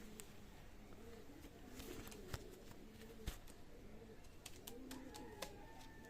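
Maya pigeons at a pigeon sale coo in repeated soft, rolling phrases close by, with faint rustling and small clicks behind and no one speaking.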